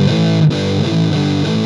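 An electric guitar played through a Big Muff Ram's Head fuzz pedal gives loud, thick, distorted sustained chords, with one sharp re-strike partway through and no talking.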